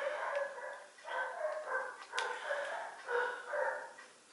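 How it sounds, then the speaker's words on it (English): Several dogs bark and yip in rapid, uneven bursts indoors during a summer face makeup routine, moderately near, with no talk over them. "Sorry if you can hear my dogs."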